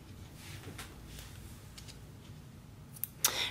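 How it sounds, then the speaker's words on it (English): Scissors trimming a crochet yarn end on a coin purse, one or two sharp close snips at the very end after quiet handling. "All right, let me trim that."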